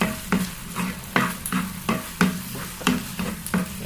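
Onions with ginger and garlic frying in a pan, a steady sizzle broken by regular scraping strokes of a spoon stirring about every half second, close and fairly loud, with no talking.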